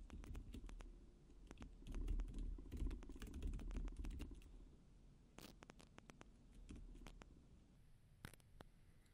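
HTML code is typed on a computer keyboard at a steady pace, a quick patter of close key clicks with a few louder taps.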